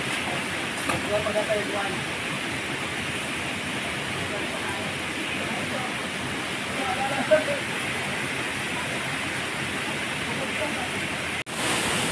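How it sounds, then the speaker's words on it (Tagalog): A canyon waterfall in Samar, Philippines, roars steadily and close by as a constant broadband rush lasting the whole stretch, with a brief knock near the end. "Third waterfall."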